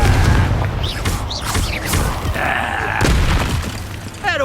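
A Confringo blasting curse explodes during a Hogwarts Legacy duel, with sharp booming blasts and crackling bursts amid whooshing spell effects and brief shouted voices.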